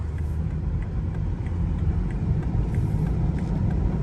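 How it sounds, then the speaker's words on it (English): A 2017 BMW 740i M-Sport xDrive accelerating on a street gives a steady, moderate low rumble of engine and road noise from inside the cabin, with no talking. "let's give it some gas and let's hit the street"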